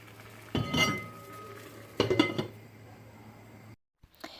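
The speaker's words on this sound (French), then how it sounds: "je vais refermer mon tagine" A tagine holding veal with fennel and peas is covered again, giving two clinking knocks of the ceramic lid against the pot over a low steady hum, then a short gap and a faint clatter.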